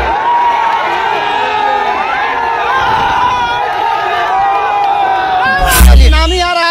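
A large crowd of supporters awaiting Pawan Singh cheers and shouts continuously, with excited voices and whoops close by and a loud burst near the end.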